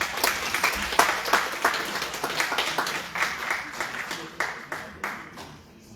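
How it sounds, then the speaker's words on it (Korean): Audience applause greets a provincial party chairman as he comes forward to lecture at a Democratic Party academy event in Jeju, dense steady clapping that swells, then gradually thins and fades. "위원장님 나오실 때 큰 박수 부탁드리겠습니다."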